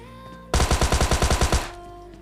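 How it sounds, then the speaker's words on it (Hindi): A burst of about ten rapid automatic shots from a Thompson submachine gun in PUBG Lite, loud and close, evenly spaced, stopping abruptly with a short fading tail, no talk. "बट मैंने फायर भी दिया, बट एक भी बुलेट मेरी कनेक्ट नहीं हुई है"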